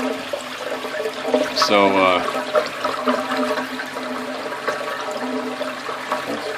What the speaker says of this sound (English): the overflow is shooting down the pipe. And that's what's making that noise right now